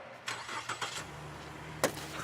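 A stolen car's engine cranks and catches, with a few short bursts and then a steady low idle and a sharp click or slam near the end, fairly close and with no talk.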